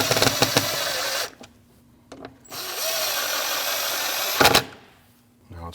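A power tool drives bolts with a 10mm socket while an alternator is fitted on a 2014-2023 Jeep Cherokee 2.4L L4, in two long, loud sustained whirring runs separated by brief pauses and a final short burst.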